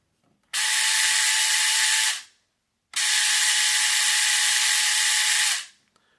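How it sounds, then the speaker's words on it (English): A 1:43 scale RC Mustang with a Power Hobby upgrade motor whines at a steady high pitch in two sustained bursts, each about two seconds long, close and loud with silence between them. "Here is my Havoline Mustang with the Power Hobby motor."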